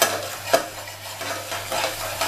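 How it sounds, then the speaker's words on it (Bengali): Spices being sautéed in a pan for an egg tawa fry, with a steady close sizzle broken by a few scraping stirs of a spatula against the metal. "এই মশলাগুলো আমি এখানে ভালো করে আগে কষিয়ে নেব।"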